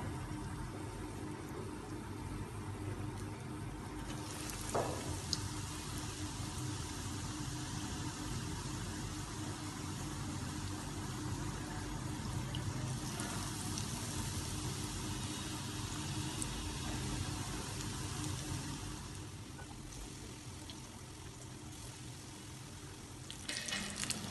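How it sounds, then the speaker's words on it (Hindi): Potato balls coated in rice flour and cornflour deep-frying in oil over a medium flame, a steady, close, bubbling sizzle that runs throughout and softens slightly near the end, with no voices. "तो चलें स्टार्ट करते हैं फ्राई करना"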